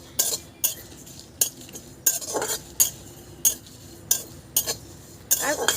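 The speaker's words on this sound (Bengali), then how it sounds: "তিলটা ভাজবো, তিলের যখন সেন্টটা বেরোবে সেই পরিমাণ অনুযায়ী কিন্তু আমি ভাজবো।" Sesame seeds dry-roasting over a low flame in a pan, stirred with a utensil that gives about nine distinct scraping and clinking strokes at an uneven rhythm, close and clear, with only a faint rustle between strokes.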